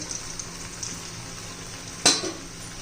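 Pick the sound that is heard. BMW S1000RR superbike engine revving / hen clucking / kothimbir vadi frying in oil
kothimbir vadi frying in oil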